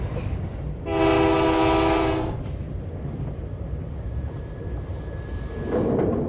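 Train horn on a passenger train heading east toward Montreal through Ontario farmland, one loud steady multi-tone blast of about a second and a half over continuous rail rumble, followed by a fainter distant tone.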